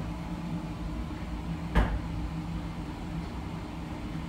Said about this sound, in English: So usually we just wait for a little bit for the door to close.